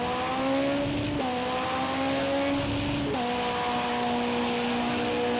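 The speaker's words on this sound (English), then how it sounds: "Still revving it right up to the rev limit" A race car engine screams at high revs during Le Mans 24 Hours qualifying, holding near its rev limit with brief dips as gears change, loud and sustained, with crowd or track noise underneath.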